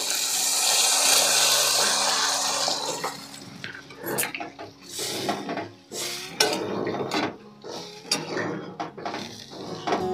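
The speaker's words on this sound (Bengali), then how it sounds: "এবার সামান্য পরিমাণে জল দিয়ে দেব" Water is poured into a pan of Bengali potato curry (aloo dum), a steady splashing pour followed by a series of clinks and scrapes of a utensil against the pan, close and moderately loud, with no talk.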